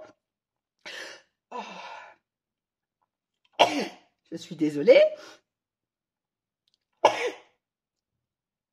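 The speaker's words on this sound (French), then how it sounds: "c'est parti pour une crise d'éternuement." A sneezing fit: a string of sharp sneezes in uneven bursts, two close together, then a longer cluster and one final sneeze, with silent gaps between them and someone briefly speaking.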